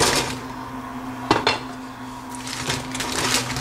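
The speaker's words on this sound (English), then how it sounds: "Now I'm going to put every pakodas into this sauce." Fried dal pakodas are stirred into sauce in a bowl, giving clinks and scrapes of a utensil against the dish in a few irregular bursts over a steady low background hum.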